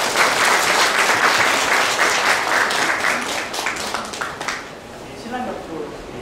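Wedding guests clap together in a dense, sustained round of applause filling the hall, tapering off toward the end while a host speaks over it.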